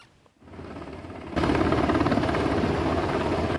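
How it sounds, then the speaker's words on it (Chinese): A helicopter lands during a nuclear safety drill on the Hengchun Peninsula in Taiwan. Its rotor drone starts faint, then jumps to a loud, steady close-up thrum that continues to the end. "直升机降落"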